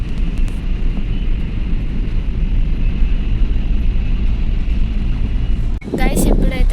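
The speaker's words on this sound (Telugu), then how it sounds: "సో గైస్ మా బస్ అయితే స్టార్ట్ అయిపోయింది." A sleeper bus engine drones steadily as the bus pulls away, a loud low rumble with road and wind noise throughout, ending in a short rush of air.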